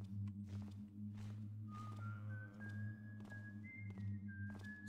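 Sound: whistling from an undead hammerite in the video game Thief

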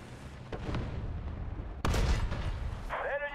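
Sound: artillery fire in War Thunder video game

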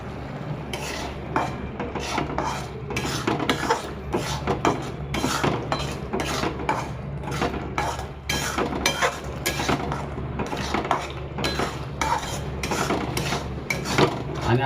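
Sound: onion tomato masala roasting and being stirred in pan

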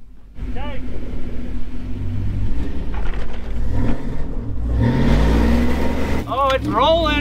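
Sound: Lincoln Navigator SUV rolling off a rock

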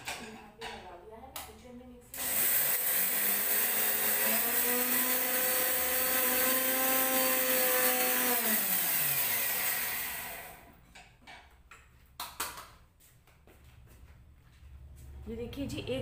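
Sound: mixer grinder grinding turmeric

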